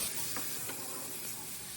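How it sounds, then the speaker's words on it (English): Steady, close sizzling hiss of sausage frying in a hot pan, with a couple of soft scraping stirs. "You got a nice sizzle."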